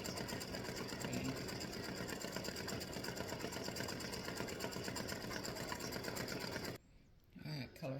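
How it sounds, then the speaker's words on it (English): An embroidery machine stitches a Halloween witch and spiders design, a steady fast mechanical whir and needle chatter running loud and constant before cutting off near the end. "my machine says that it takes 19 minutes to stitch this out"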